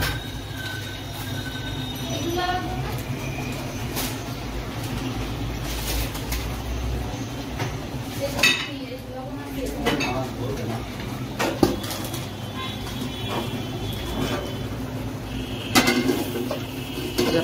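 Onions dropped into a hot pan to fry fish for a potato muri ghonto: a steady, loud sizzle with occasional clatters of the pan and utensil, while a person talks throughout.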